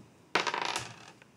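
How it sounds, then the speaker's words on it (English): A die tossed onto a hard surface during a classroom probability demonstration gives a quick single rattle and tumble of clicks that settles within about a second. "Rolling a dice."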